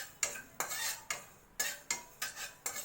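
Cumin and fenugreek seeds being dry fried in a pan, giving about seven sharp scraping strokes of a utensil against the metal in a steady rhythm, close and fairly quiet, with no talk.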